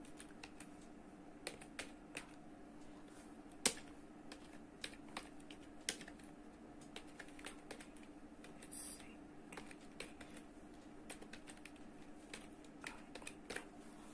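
Typing on a computer keyboard into a PowerPoint text box makes faint, close, irregular key clicks, sparse taps with occasional sharper strokes over a low steady hum.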